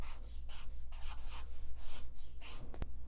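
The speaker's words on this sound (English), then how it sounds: "We can write it down." Pen or pencil writing out a math answer on paper or a board, a steady scratchy stroking in several short bursts over about three seconds, close and moderately loud, ending with a sharp tap.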